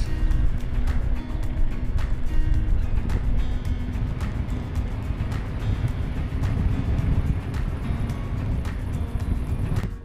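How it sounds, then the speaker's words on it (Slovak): Strong, steady southerly wind buffeting the microphone outdoors near Slovenský raj, Slovakia, a loud low rumble with gusty surges throughout and no talking. "Dneska fúka dosť intenzívny južný vietor."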